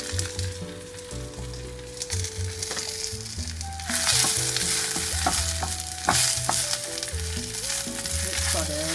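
Spinach stir-fried lightly with a pinch of salt in a pan for a quinoa bowl: a continuous crackling sizzle that grows louder partway through, with intermittent stirring knocks, close up under a steady background tone and no talk.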